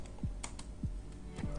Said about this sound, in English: Now go ahead and type sudo